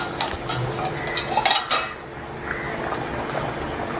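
A metal lid clanks and scrapes as it comes off a pot of boiling Chettinad-style fish curry, a few sharp clinks over a soft bubbling hiss.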